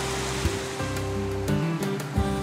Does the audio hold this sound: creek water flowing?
yes